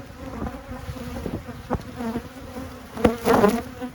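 A bee colony in a hive buzzes in a low, steady hum, with a louder burst of close buzzing near the end.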